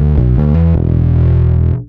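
Electric bass run through a Source Audio Aftershock distortion pedal on its Bass Tube Drive engine, mixed with clean signal: a few loud, gritty plucked notes stepping down, then one sustained note that rings and cuts off, alone.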